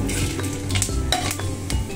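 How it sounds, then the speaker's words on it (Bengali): Whole spices (a bay leaf, a dried red chilli, whole garam masala and a little mace) sizzle steadily in hot oil for katla fish kalia, with scraping stirs and light utensil clinks close by. "এখানে তেল গরম হয়ে গেছে, এখানে আমি ফোড়ন দেবো একটা তেজপাতা, একটা শুকনো লঙ্কা, আর গরম মশলা"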